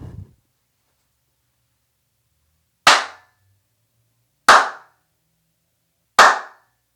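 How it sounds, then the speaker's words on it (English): Three sharp, isolated handclaps in a small bathroom, evenly spaced about a second and a half apart, each followed by a short ringing reverb tail into silence, with a brief faint rustle at the very start. "I'm going to set down my microphone and go on ahead and do my clap."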